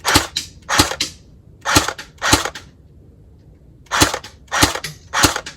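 An airsoft Kalashnikov replica fires outdoors in sharp, loud single shots. Several separate cracks come in two groups with a short pause between them, close by, with no talk.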